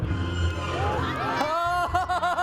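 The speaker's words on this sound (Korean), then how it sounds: "빨간 사과가 나오자 아이들의 환호성이 터져 나옵니다" Children in an audience burst into high, rising cheers and whoops at a magic show as a red apple appears from an empty container, a short excited outcry mixed with crowd noise.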